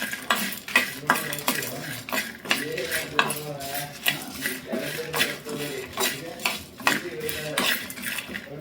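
Urad dal, chana dal and Guntur chillies roast in a pan, a utensil scraping and stirring in repeated strokes with a soft sizzle beneath, close and moderately loud.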